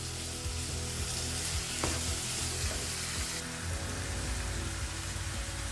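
Grated carrots with sugar for gajar halwa fry over low heat, a dense, even sizzle close up, with occasional soft scrapes as the spoon stirs the mixture.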